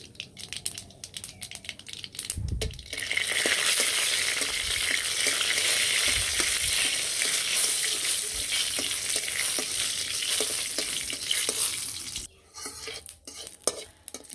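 Dried red chilli pieces dropped into hot frying oil burst into a loud, steady sizzle with crackling spatters lasting about ten seconds, with a few stirring clinks before and after.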